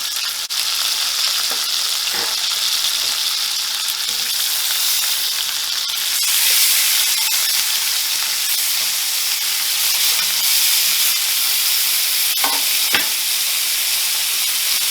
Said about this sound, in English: now that I've got a good sear all the way around